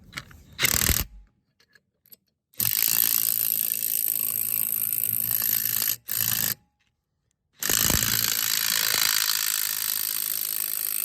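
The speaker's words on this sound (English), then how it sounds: "Grab my impact" Impact wrench spinning a nut down a lug stud on a first-generation Dodge Dana 60 axle: loud close buzzing runs in several bursts, the longer ones steady, split by moments of silence.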